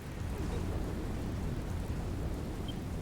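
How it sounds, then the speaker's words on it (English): Steady rain pours in Dragon Quest Builders 2, a dense even hiss with faint low rumbling underneath, continuous and moderately loud, no talking. "Haven't seen it rain in the game in a while."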